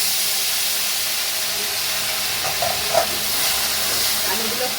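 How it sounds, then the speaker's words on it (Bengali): Thinly sliced potatoes go into hot oil and fry with a steady, broad sizzling hiss that stays even throughout, with a few faint clicks of stirring and no voices. "এই তেলের ভিতরেই এবার আমি আলুগুলো দিয়ে দেব।"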